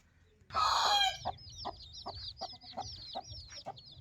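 Aseel roosters and chickens on a farm, a loud burst of flapping or scuffling followed by a run of repeated nearby clucks and short calls at a steady rhythm.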